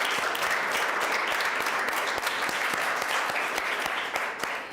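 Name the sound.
applause, students clapping for classmates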